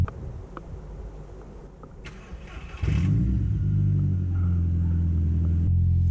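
After a few clicks and a brief cranking whir, a project car's engine with a full turbo-back exhaust catches and settles into a loud, deep, steady idle rumble.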